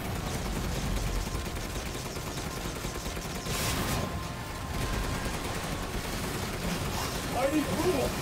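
Rapid gunfire and combat effects in Resident Evil Village, played in third-person mode, crackle in bursts over a game soundtrack, with voices talking under the action.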